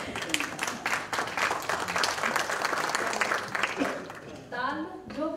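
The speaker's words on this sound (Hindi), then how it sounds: "आप लोग ताली बजा सकते हैं" An audience at an international poetry mushaira in Michigan breaks into loud, sustained applause, a thick wash of hand-clapping lasting several seconds before a voice begins speaking as the clapping dies away.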